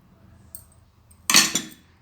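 Cooked fenugreek curry spooned from a pot into a bowl, a single bright metallic clink and scrape near the mic followed by a shorter second clatter, with quiet background before.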